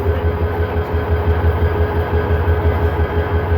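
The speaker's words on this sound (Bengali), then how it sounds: "ট্রেনটি ভৈরব বাজার জংশন থেকে দুপুর 12টা 25 মিনিটে ভৈরব বাজার জংশন ছেড়ে যাচ্ছে।" A train pulls out of Bhairab Bazar Junction station, giving a loud, continuous low rumble of the engine and wagons with an even rhythm and no voices.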